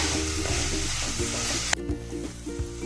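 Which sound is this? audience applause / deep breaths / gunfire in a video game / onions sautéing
onions sautéing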